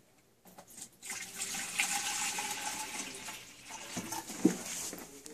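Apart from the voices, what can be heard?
distilled water poured into a Statim waste bottle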